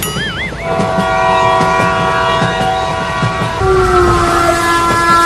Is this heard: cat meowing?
no